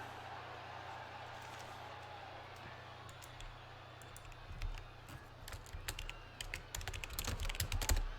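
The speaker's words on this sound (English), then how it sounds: "Just want to mute my typing" Keystrokes on a mechanical computer keyboard start faint over a low steady hum, then grow into a denser run of close, irregular clacks toward the end.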